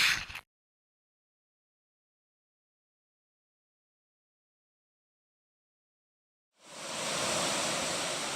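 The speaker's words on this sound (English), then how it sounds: "This is Woods Creek coming down." Woods Creek rushes down a mountainside along the John Muir Trail, a loud, steady, close roar of whitewater that starts abruptly after a long stretch of silence and runs without a break to the end.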